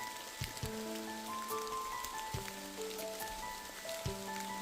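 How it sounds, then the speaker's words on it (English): Rain falls on a cold, wet late-November day, a dense patter of drops with sharper louder taps mixed in, steady and close throughout with no talking. "cold and wet, rainy November day,"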